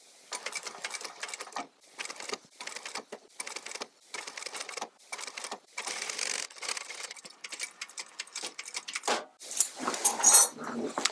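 Sewing machine stitching piping cord onto upholstery fabric for a reupholstered chair, running in repeated bursts of steady mechanical whirring with short pauses between runs.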